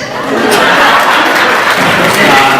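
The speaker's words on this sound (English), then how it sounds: "let's just hope to get a round of applause" An audience at a celebrity roast breaks into loud, sustained applause, a dense wash of clapping with some crowd noise and chatter mixed in.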